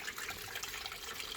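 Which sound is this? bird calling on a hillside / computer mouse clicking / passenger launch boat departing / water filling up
water filling up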